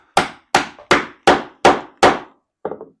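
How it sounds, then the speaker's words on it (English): Six sharp wooden strikes of a mallet on a chisel in steady rhythm, each about half a second apart, loud and close, followed by a softer cluster of knocks. "beat the snot out of a chisel with a mallet"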